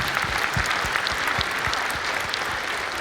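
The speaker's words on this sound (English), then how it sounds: "we can applaud, you can applaud." Conference keynote audience applauding in a large room, steady dense clapping from many hands holding at an even level throughout, with no voices on top.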